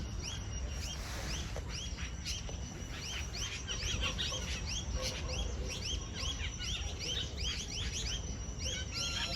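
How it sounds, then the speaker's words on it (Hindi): Many small green birds chirping and twittering in quick repeated high calls at a campsite near Dehradun, India, a busy chorus over a low background rumble. "और वो देखो छोटी सी चिड़िया हरे वाली,"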